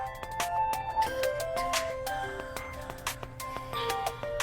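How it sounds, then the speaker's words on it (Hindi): A mobile phone ringtone plays a bright electronic melody of quick tonal notes, close and fairly loud, with no one speaking. "ये मेरा फोन बज रहा है, देखिए मेरा किसका है।"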